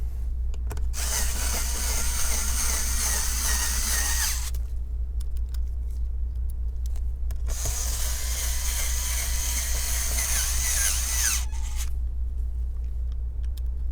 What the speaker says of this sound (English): Now you can close the hinge down and put the 2 screws back in.